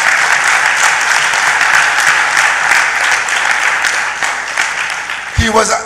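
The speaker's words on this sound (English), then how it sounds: "I want you to give him a round of applause." Loud, close crowd applause at a PNM political party meeting in Chaguanas, continuous clapping with voices mixed through it and a sharp thump near the end.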